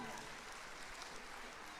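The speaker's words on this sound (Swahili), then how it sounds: "tumpigie Mama Pasaris makofi" Crowd applause for Esther Passaris at an outdoor ODM political rally in Nairobi, a faint, steady patter of clapping under a speaker's voice.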